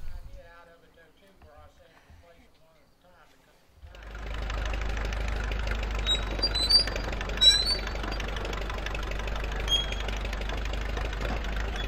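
A small switcher locomotive at a historic sawmill starts up after a quiet stretch, settling into a steady, fairly close engine run with faint rattles and knocks. There is no talking over it.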